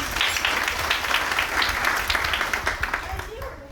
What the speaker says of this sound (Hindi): तो मैडम के लिए मैं जोरदार ताली बजा दी।